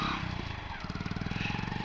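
A motorcycle putters away with a rapid, even engine pulse, fairly faint and steady over a couple of seconds, with no talking.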